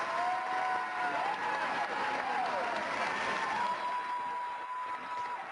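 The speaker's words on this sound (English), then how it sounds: "Listen to the crowd going berserk." Rally crowd cheering and applauding wildly, a dense continuous roar of clapping and shouts with whistles rising above it, loud and sustained throughout.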